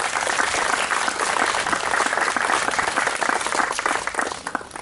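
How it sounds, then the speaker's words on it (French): Outdoor crowd at a heritage-day event in Guignes applauds steadily for several seconds, a dense, even clapping that thins a little at the end. "Je vous demande d'applaudir."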